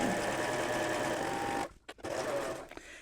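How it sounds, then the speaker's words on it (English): A serger stitches a pocket seam on an apron with a fast, close, continuous mechanical whirr for about a second and a half, stops abruptly, then gives a brief second burst of stitching. "I'm going to sew from the bottom to the top along this seam"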